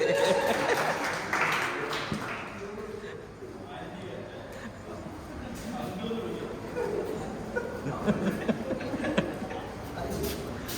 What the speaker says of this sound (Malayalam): എല്ലാവരും ഒന്ന് കൈയടിച്ച് പ്രോത്സാഹിപ്പിച്ചേ